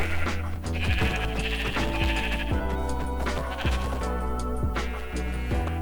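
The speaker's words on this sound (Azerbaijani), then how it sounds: "Ağ qoyunu, ağ qoyun da buradadır." Repeated sheep bleats from Minecraft ring out loud and close over a steady layer of game music, several calls spread across the stretch with no talking.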